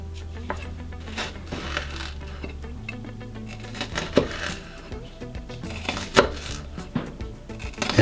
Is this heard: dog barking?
no